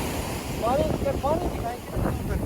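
Sea waves wash along the shore under heavy wind buffeting, a steady roar filling the clip, while a voice speaks faintly over it.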